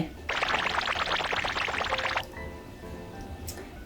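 Water being drunk while lipstick wear is tested, a steady wet gulping and slurping run lasting about two seconds, close and fairly loud, then a quieter trailing sound.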